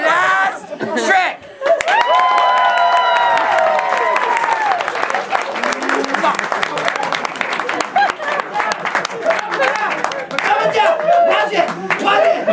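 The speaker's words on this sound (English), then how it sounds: "when I say, are you ready for the last trick, you better applaud." A magic show audience claps and cheers loudly and steadily right after a call for applause before the final trick, with excited shouts and voices mixed into the sustained noise.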